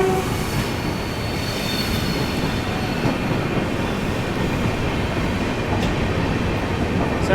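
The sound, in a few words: train running on the Tirupati line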